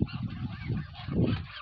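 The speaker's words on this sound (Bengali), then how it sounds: "আর দেখুন কি সুন্দর মনোরম পরিবেশে রাজহাঁসগুলো আমরা পালন করলাম" Domestic geese kept on a farm in Saudi Arabia honk in a low, throaty way from a pen nearby, with several overlapping calls and a louder burst about two-thirds of the way through.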